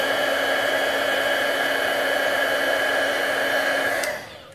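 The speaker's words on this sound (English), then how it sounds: "I'm going to heat up the embossing powder, which is going to make a loud noise like a hairdryer" A steady, loud hair-dryer-like roar of a heat tool melting embossing powder, blowing continuously for about four seconds, then cutting off abruptly.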